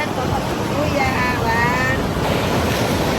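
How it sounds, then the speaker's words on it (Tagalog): Ocean surf rolls steadily at Nasugbu Beach in Batangas, a continuous broad wash of waves with wind buffeting the microphone throughout. "Andito kami ngayon sa Nasigbu Beach."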